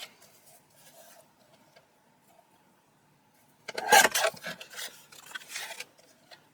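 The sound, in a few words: trimming card stock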